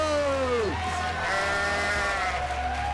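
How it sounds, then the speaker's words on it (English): A goat in a video game lets out a long, wavering bleat that bends downward, followed by a higher quavering cry, heard clearly against a steady background with a voice talking. "Except goat sounds way different in this movie."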